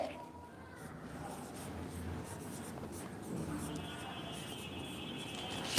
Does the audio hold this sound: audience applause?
no